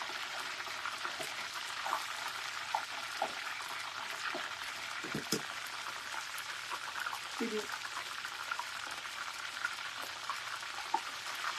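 Fish for Baja-style tacos frying in very hot oil, a steady close crackle and bubbling sizzle running throughout with small pops and utensil clicks.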